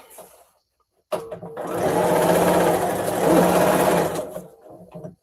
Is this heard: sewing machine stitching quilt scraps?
yes